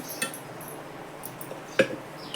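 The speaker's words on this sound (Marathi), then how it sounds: "हे राहिलेली डाळ जरा चांगली घोटून घेतली चमच्याने." A spoon works leftover dal in a cooking pot, giving a few scattered light metallic clinks and scrapes, two sharper taps standing out against a quiet background.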